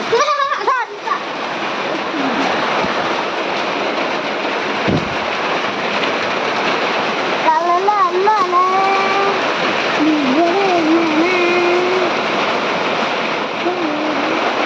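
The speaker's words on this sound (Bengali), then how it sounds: "বৌদি এখানটা বৃষ্টি পড়ছে, আমার জিনিসগুলো ভিজে গেল।" Rain pours from above onto someone's belongings, a dense, steady wash of splashing water that runs the whole time, with voices talking over it.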